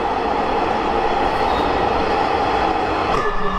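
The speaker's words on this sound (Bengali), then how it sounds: "আমাদের মেট্রো রেলটা এখন" A Dhaka metro rail train runs at speed, heard from inside as a loud, steady rumble and rushing whoosh that goes on unbroken, with no voices.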